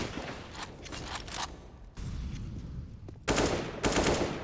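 Rapid, sustained gunfire bursts from CS:GO rifles during a pro match on Mirage at DreamHack Open, dense crackling volleys that stop briefly, then resume louder in two late bursts.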